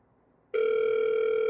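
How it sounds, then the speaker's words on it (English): A phone line on a progressive dialer calling out: after a brief quiet moment, a steady, loud electronic telephone tone begins abruptly and holds to the end. "It'll then call my phone."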